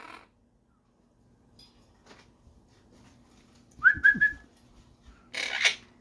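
Quaker parrots at close range give a brief rising whistled chirp followed moments later by a short hissy, scratchy burst, set against a mostly quiet room.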